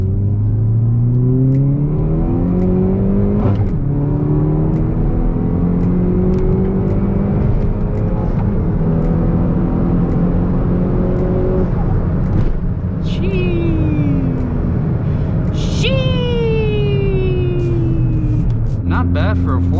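A tuned Hyundai Veloster N four-cylinder turbo with a JB4 tune and about 21 psi of boost pulls hard through several gears, its engine note climbing steadily and dropping at each shift, loud and close throughout.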